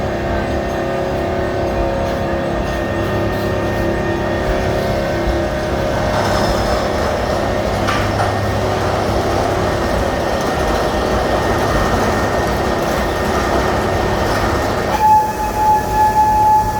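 Scenic railway train ride at Six Flags Great America, heard from aboard as a loud, steady rumble and clatter of rolling wheels over about seventeen seconds, with a brief tonal horn or bell near the end.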